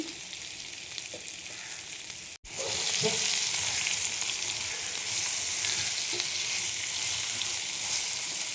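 A pan of green chilli, whole cumin and raw peanuts sizzles loudly. A sharp splash of water sets off a fierce, steady hiss, which carries on as turmeric and salt go in.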